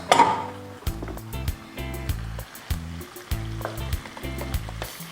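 Pepper poured into a hot oiled pan with iru and onion for Ayamase rice, giving a sharp loud sizzle that settles into steady crackling frying with repeated clinks of a utensil against the pan.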